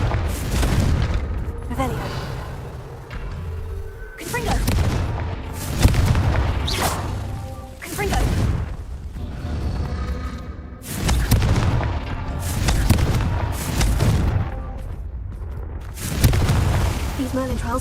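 A Confringo blasting spell in the Hogwarts Legacy video game fires again and again, giving a series of loud, booming explosions about every two seconds, with spoken voices between some of the blasts.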